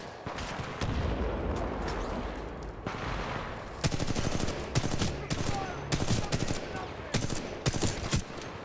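Rapid gunfire in the Titanfall 2 shooter, automatic bursts and single shots crackling close, denser toward the end, with some speech in the background.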